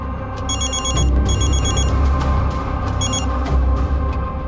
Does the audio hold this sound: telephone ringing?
yes